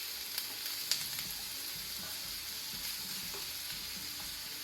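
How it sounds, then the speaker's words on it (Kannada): Ginger, garlic and onion sizzle and fry in a pan for a prawn masala, a steady close hiss of hot oil with a few light clicks of stirring throughout, no voices. "ಜಿಂಜರ್ ಗಾರ್ಲಿಕ್ ಆನಿಯನ್ ಅದೆಲ್ಲ ಹಸಿ ವಾಸನೆ ಹೋಗೋ ತನಕ ಫ್ರೈ ಮಾಡಬೇಕು."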